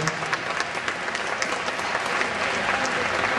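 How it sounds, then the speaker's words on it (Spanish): A hall audience at the Sociedad Hijos de Cabranes 53rd-anniversary celebration claps in sustained, even applause, a dense wash of many hands at moderate volume with no break. "Un aplauso"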